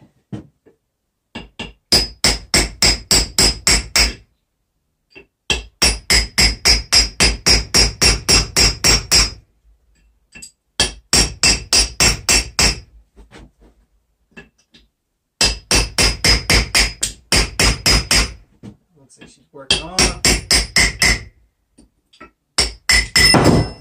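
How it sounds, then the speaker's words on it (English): Rapid metallic hammer taps on a brass drift, seating a differential locker in its carrier, ring out in repeated bursts of a dozen or so strikes each, separated by short pauses, close and loud. "We're gonna have to give this guy a little tap. A hammer."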